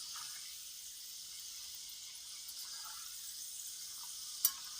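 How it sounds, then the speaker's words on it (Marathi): Godi shev frying in hot oil gives a steady, soft, hissing sizzle with fine bubbling that stays even throughout, broken only by one brief sharp tick near the end. "गुडीशेव जेव्हा तळत होतो तेव्हा खाली होती आणि आता थोडी नॉर्मल असे बुडबुड्या येते"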